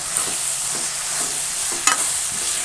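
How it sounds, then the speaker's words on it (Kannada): Pasta vegetables are stirred in a hot pan after ginger powder and chili sauce go in, a steady sizzle under repeated scraping strokes of a spoon, with one sharper clatter midway. "ಇದು ಚೆನ್ನಾಗೆಲ್ಲ ಮಿಶ್ರಣ ಮಾಡಬೇಕು."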